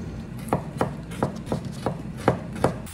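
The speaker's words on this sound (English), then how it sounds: "I chopped up some fat into little chunks to add to the air fryer later" A knife chops pork fat into small bite-sized chunks, about eight sharp, evenly spaced cutting thuds against a board, close and clear with no talk.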